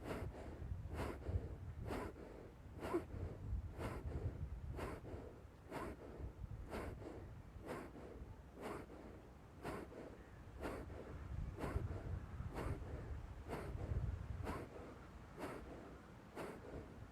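Kapalbhati breathing: forceful, evenly spaced nasal exhalations, about one sharp snort-like puff per second, repeated steadily for the whole stretch against a low background hum, with no speech.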